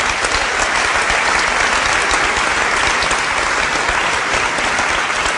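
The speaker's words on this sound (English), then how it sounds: "That's worth a round of applause," Dense, steady applause from a large audience at a university event in Geneva, loud and continuous with no break throughout.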